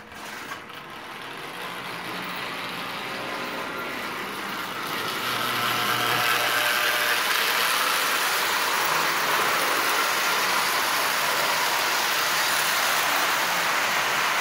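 A Marx Santa Fe diesel tin toy train pulling about 20 tin litho cars runs steadily around its track, a continuous close motor hum and rolling rattle that grows louder midway and holds.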